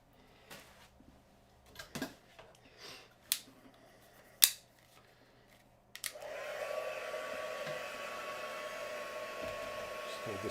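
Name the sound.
hair dryer drying glitter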